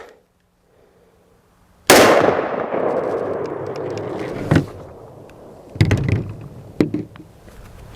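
A rifle fires a 230 grain Xtreme penetrator round at a steel plate downrange in an open field: one sudden loud blast with a long decaying roar, then a few sharp clanks and thumps.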